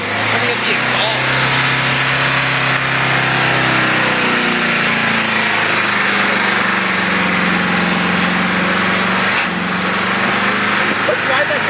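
A damaged car engine runs steadily and loudly with a possible exhaust fault, holding a continuous rough idle-like drone with a slight pitch shift partway through.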